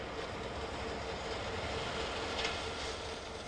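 A slow branch line train on the way to Collingwood passing at about ten miles per hour, a steady low rumble and rolling wheel noise that holds level throughout, moderately distant.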